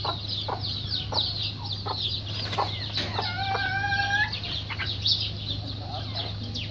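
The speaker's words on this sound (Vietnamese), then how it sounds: "Đây là mấy em gà con mình mới nở." Newly hatched chicks peep in short, high chirps, with one run of repeated cheeps in the middle, set against a steady low hum and other clucking fowl nearby.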